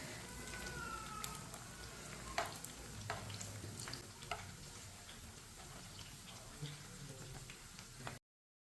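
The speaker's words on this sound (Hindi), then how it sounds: "ये वाली साइड से भी 2 मिनट के लिए फ्राई होने देते हैं" Chicken frying over a low flame in a pan on the stove, a steady dense sizzle with crackles and spits running throughout, and a few light clicks and taps over the top.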